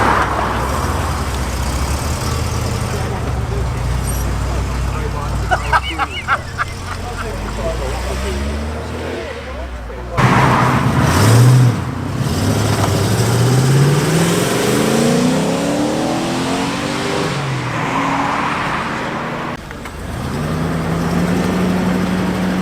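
Cars with loud straight-piped exhausts pull away from a breakfast car meet, engines revving and rumbling past at close range while people talk nearby.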